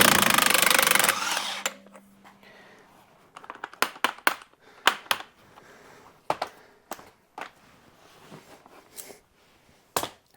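Electric DeWalt impact wrench loosening stiff lug nuts on a wheel, heard as a string of short sharp bursts spaced through the clip, preceded by a loud broadband whir at the start.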